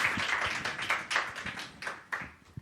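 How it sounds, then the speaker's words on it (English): Fairly quiet applause from a symposium audience, scattered hand claps with uneven bursts and no one speaking. "Can we give them a final round of applause?"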